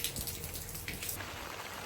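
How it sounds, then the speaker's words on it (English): First spring rain falling in an African village near Durban, South Africa, a steady dense hiss of drops on surfaces, close and continuous with no voices. "We've got first spring rains."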